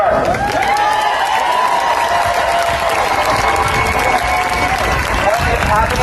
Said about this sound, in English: give yourself a round of applause for coming out and showing your support